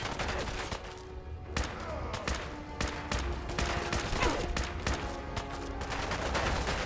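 Gunfire in the video game Fallout 4 comes as dense, loud rapid shots that overlap into a continuous fusillade for several seconds, with no speech.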